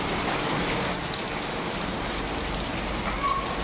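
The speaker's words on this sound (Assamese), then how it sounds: "বৰষুণ পৰি আছে বাহিৰত" Steady, heavy rain pours down outdoors, a dense, even hiss of drops hitting surfaces that holds without a break from start to finish.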